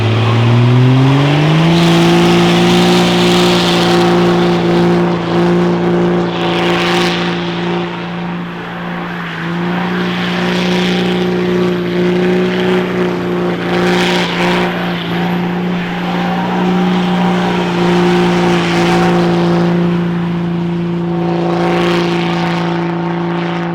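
A 12-valve Cummins diesel truck doing a burnout, engine held at a sustained high-rev drone with steady harmonic tone, loud and continuous with slight dips and swells of tire roar throughout.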